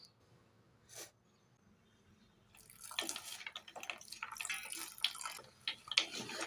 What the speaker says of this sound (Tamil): இப்போ வந்து கொஞ்சம் கொஞ்சமாக நம்ம வந்து தண்ணி ஊற்றி இதை நம்ம பிசைஞ்சிக்கலாம்.